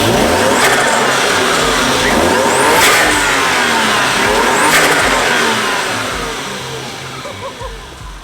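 Toyota 1JZ engine fitted with an HKS intake, revving hard in repeated loud pulls close by, the intake roar swelling and falling back toward idle.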